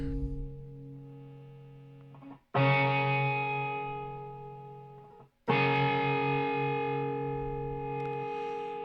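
Three sustained, gritty guitar chords distorted by two parallel germanium clipping diodes through a Blackstar ID30 TVP amp ring out one after another, each struck loudly and slowly fading, with no talking.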